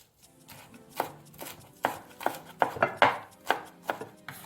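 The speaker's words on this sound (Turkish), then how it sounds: "Nanemizi de ince ince kıyıyoruz." Fresh mint leaves finely chopped with a knife on a board, a string of crisp, close blade taps in an uneven rhythm, some strokes louder than others, with no talking.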